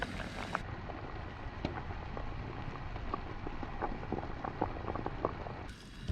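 A pot of crabs and prawns boils on a beach, giving a faint, steady bubbling and crackling simmer with occasional small pops and no speech.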